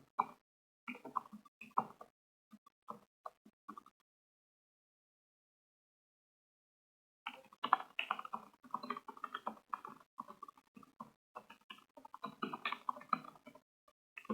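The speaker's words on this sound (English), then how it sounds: "I'm just gonna type in," Typing on a computer keyboard: close, quiet key clicks in irregular bursts, a gap of silence lasting a few seconds, then a longer, denser run of keystrokes.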